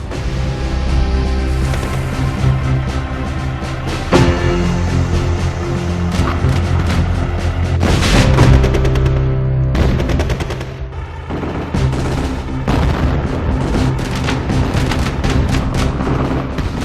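Heavy tank cannon fire and rumbling battle noise from a World War II Sherman tank in a PC game, with repeated booming blasts over a dense, continuous loud din.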